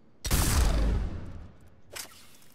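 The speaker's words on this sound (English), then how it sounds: "The new blood pack pistol. It's got some oomph to it." A blood pack pistol fires a single heavy shot in the video game Mass Effect 3, a loud close burst that tails off over about a second, followed by a fainter second impact.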